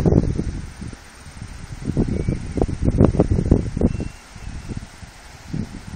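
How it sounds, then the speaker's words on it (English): Strong wind at a campsite buffets the microphone in rough, roaring gusts that swell and fade, with a faint rustling hiss behind them. "Very, very windy today,"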